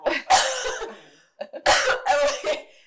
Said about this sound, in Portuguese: Me deu uma crise de tosse mesmo